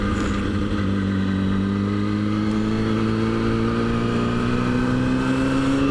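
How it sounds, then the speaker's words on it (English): A motorcycle rolls along a road with a large lorry following close behind, and a steady engine drone holds throughout, its pitch creeping slowly upward, with no talking. "there's a big ass lorry behind me"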